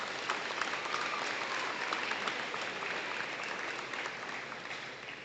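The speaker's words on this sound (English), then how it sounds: "Let's give a round of applause for these folks." Crowd at a high school athletics hall of honor ceremony applauding, a steady wash of many hands clapping at even loudness throughout, no voices over it.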